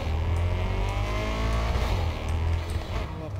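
A car engine in the video game Cyberpunk gives a heavy, steady low rumble with a faint whine on top, close and constant throughout.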